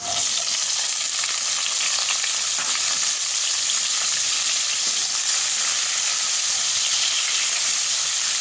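Onion and green chili sizzle steadily in hot oil spiced with fennel seed, nigella and fenugreek, a loud, unbroken frying hiss with faint stirring throughout and no voices, as bitter gourd is cooked.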